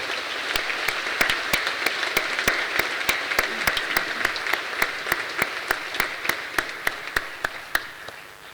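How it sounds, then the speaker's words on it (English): An audience at a university graduation ceremony for medicine and health sciences applauds in a hall, a steady crowd of clapping with sharp, evenly spaced claps close by that gradually thins and fades toward the end. "let's give them another round of applause"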